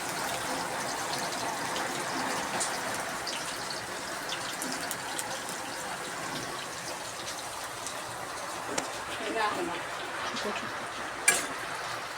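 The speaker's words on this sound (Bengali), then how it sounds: "আমাদের তেলটি গরম হয়ে গেছে এখন আম্মু দিয়ে দেবে পরিমাণ মতো পেঁয়াজ কুচি" Chopped onion sizzling in hot oil for a vegetable-stem curry with dried shrimp, a steady broad crackling hiss throughout, with a few faint clinks of stirring near the end and no talking.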